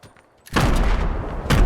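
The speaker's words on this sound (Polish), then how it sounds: "ja może tam dorzucę moje granaty przez okno" Grenades exploding inside a building in the video game Fortnite, a sudden heavy blast that rumbles on, then a second loud burst right after, close and booming.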